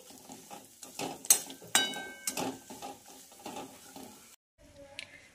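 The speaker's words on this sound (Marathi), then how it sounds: "मध्यम गॅसवर आपल्याला हे फ्राय करून घ्यायचं आहे" Dry fruits frying over medium heat in a pan for a carrot sweet dish, stirred with a spoon in repeated scraping strokes and metallic clinks against the pan, close and moderately loud, ending in a brief quiet pause.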